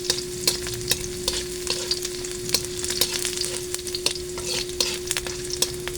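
Garlic frying in a pan while being stirred, cooked for a mackerel dish with coconut milk and vegetables, a close continuous sizzle broken by regular sharp scrapes of the utensil, no talking.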